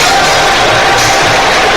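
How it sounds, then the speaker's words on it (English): Nottingham Forest fans singing in a stadium during a match against Leicester, a loud dense wash of crowd noise filling the short moment with no clear individual voices. "They're not, they're just singing, supporting their team."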